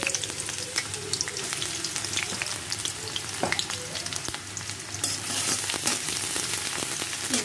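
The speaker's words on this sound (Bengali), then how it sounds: "অল্প একটু তেল দিয়ে দিই, এখন দিয়ে দিব হচ্ছে পেঁয়াজ।" Onion frying in a little oil in a wok, giving a continuous crackling sizzle with scattered pops and occasional stirring scrapes, close and moderately loud.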